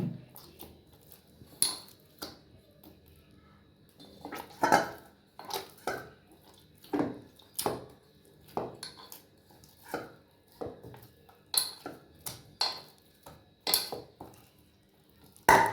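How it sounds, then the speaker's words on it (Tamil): Chana dal poli dough is worked with oil in a vessel by hand, making faint, irregular squishing slaps and soft knocks spaced a second or so apart, close and quiet, with no speech. "இந்த எண்ணெயை ஊற்றி நம்ம திருப்பி இந்த மாவை நல்லா பிணைஞ்சிக்கிறோம்"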